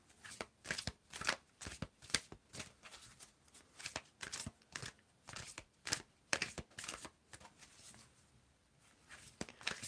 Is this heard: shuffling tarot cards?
yes